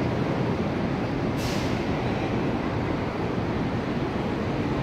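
An airport people mover train at Denver Airport rumbles in a steady, loud roar as it pulls away, with a soft hiss briefly rising near the start.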